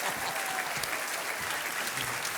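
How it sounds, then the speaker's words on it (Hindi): A studio audience on the game show Kaun Banega Crorepati claps in sustained, dense applause that stays loud and even throughout, with no voices above it. "ताली बजा दीजिए आप लोग"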